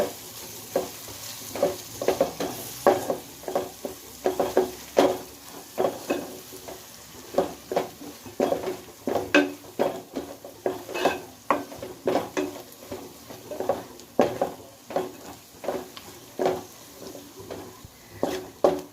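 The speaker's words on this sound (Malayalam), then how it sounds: "അപ്പോൾ ഇനി ഇതൊന്ന് നന്നായിട്ടൊന്ന് ഇളക്കി കൊടുക്കുക" Spice masala cooking in a pan for kappa biryani, stirred in quick regular strokes: a rhythmic run of scraping thuds and clanks over a light sizzle, close and without talk.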